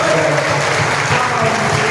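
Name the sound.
congregation applauding in church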